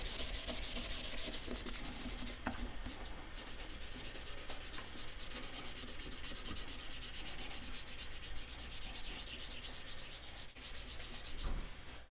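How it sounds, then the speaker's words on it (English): Sandpaper scrubs tarnish off a surface: a steady, close, continuous rasping rub that lasts the whole stretch and ends in a few quicker strokes, with no voices. "Get rid of that tarnish. Let's rotate the sandpaper."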